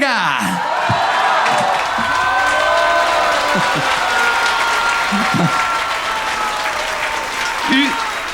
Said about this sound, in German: wir haben jetzt einen Applaus